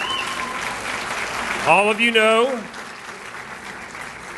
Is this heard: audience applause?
yes